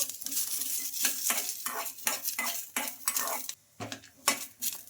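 Metal utensil scraping and stirring in a pan, with repeated rhythmic strokes as peanuts and roasted gram dal roast with a light sizzle.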